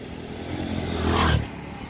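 A motorcycle engine swells briefly as it passes close by, rising to a peak and then fading.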